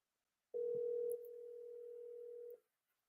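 A phone line ringing out on a call to a friend who never picks up: one steady, unbroken tone lasting about two seconds after a soft click, close and clear, with no voices.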